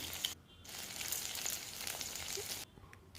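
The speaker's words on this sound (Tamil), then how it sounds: "நம்ம என்ன பண்ணுறோம்னா கொஞ்சமாக புளி சேர்த்து மறுபடியும் வதக்குறோம்" Tamarind and rock salt sauté in a pan, giving a faint, soft sizzle that drops away briefly twice, with no talking.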